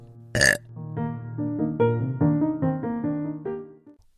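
A long, loud burp drawn out for several seconds, its pitch wobbling and stepping up and down, following a short sharp noise at the start.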